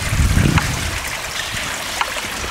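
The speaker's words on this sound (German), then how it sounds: "Da kommt das Wasser wirklich rein wie ein kleiner Fluss." Water runs into the end of an old walled tunnel like a small stream, a near, steady trickling and splashing that is fuller at first, then thinner with a few faint drips.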